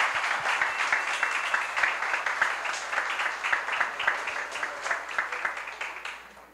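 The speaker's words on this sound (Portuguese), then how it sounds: "uma salva de palmas para todos eles" Seminar attendees clap for the organizers and kitchen workers: sustained, lively applause with crisp individual claps, fading toward the end.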